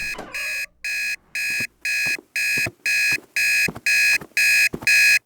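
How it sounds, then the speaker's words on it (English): An alarm clock rings in a regular run of about ten loud electronic beep bursts, each roughly half a second long with short gaps between, growing slightly louder as it goes on. "You turn the alarm off."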